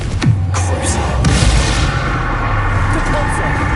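A Confringo fire spell blasting in Hogwarts Legacy, booming impacts with a sharp bang near the start and another mid-clip, loud and close over rumbling game effects.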